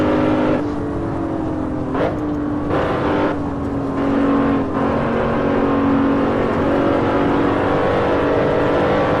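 A BMW Z4 race car in a racing video game holds full throttle, its engine a loud steady drone with rising pitch and brief dips at gear shifts, close and alone.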